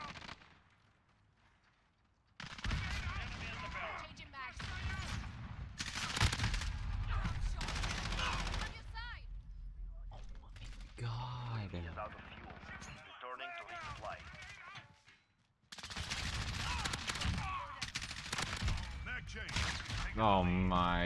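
Shotgun fire in a first-person shooter game on the Rust map, loud repeated bursts of blasts and rapid shots in several clusters separated by short quiet gaps, with voices talking over parts of it.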